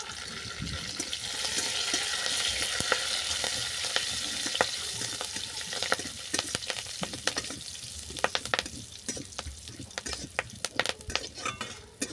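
Mixed ingredients for a savoury snack frying in a pan, a steady loud sizzle with repeated scraping and clinks of a stirring spoon, no talking.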